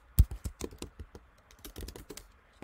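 Keys on a computer keyboard are pressed repeatedly as Ctrl D combinations, giving a close series of crisp clicks and clacks in an uneven rhythm, one sharper thump near the start, with no voice.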